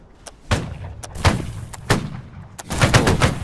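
Musket volley fire in the video game Holdfast, a string of sharp, irregular shots at varying distances, some near and loud, others faint, clustering into a denser ragged burst at the end.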